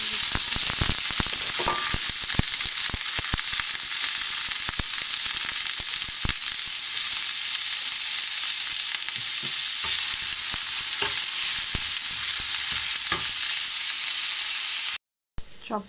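Chopped garlic, onion and green chili frying in mustard oil in a frying pan, a loud continuous sizzle with frequent stirring scrapes and clicks, steady throughout before a brief cut near the end; no talking.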